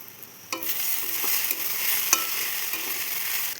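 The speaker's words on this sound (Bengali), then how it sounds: "ভালো করে একটু নেড়ে চেড়ে দেবো।" Flattened rice pulao being stirred in a pan with a little added white oil, giving a steady scraping sizzle that starts abruptly and carries on evenly, with a few sharper clinks of the spoon.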